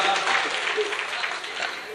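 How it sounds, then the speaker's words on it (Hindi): Brief crowd clapping at a mushaira poetry gathering in Meerut, a short wash of applause from a gathered audience with some voices mixed in. "इस मुशायरे के लिए एक बार ज़ोरदार तालियां बजाइए दोस्तों"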